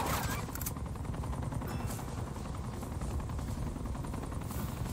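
A Hind attack helicopter in Uncharted 2: Among Thieves thumps steadily while bursts of rapid gunfire crackle through it, a dense, fairly quiet battle din with no voices.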